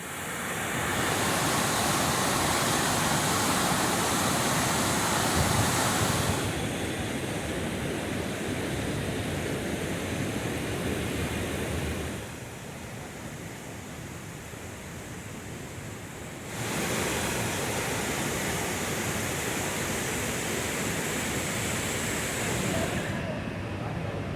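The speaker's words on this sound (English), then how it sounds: "The magnitude of water flowing through here to the falls is absolutely amazing and mesmerizing." Roaring water of Niagara Falls, a broad steady rush of spray and surf-like noise that stays loud and close throughout, shifting slightly in level in sections as if the view or position changes.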